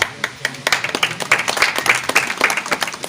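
An audience at a turban-tying ceremony for poets claps in a lively patter of overlapping handclaps, loud and close, building and continuing throughout.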